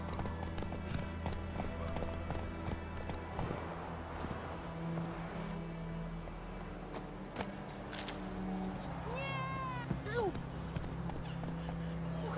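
A horse in The Witcher 3 trots and gallops with a steady clip-clop of hooves, mixed with game music and ambient sound, while someone talks over it.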